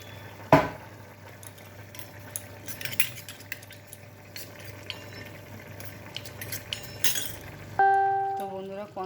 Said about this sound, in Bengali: কর্নফ্লাওয়ারটা গুলো নেবো অল্প একটু জল দিয়ে